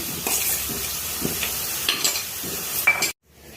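Chana dal and cashews hit hot oil in a pan for beetroot rice, giving a steady bright sizzle with a few stirring scrapes, close and continuous for about three seconds before cutting to near silence.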